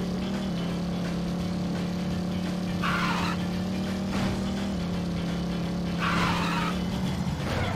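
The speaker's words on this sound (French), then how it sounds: "Ah, je suis parti trop loin. Petit dérapage." A vehicle in No More Heroes skids with a steady droning engine hum underneath and two hissing tire-scrub bursts a few seconds apart.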